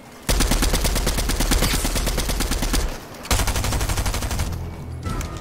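Rapid automatic gunfire from a video game arena match rattles in long, dense bursts with a brief gap in the middle, loud and close with no talk.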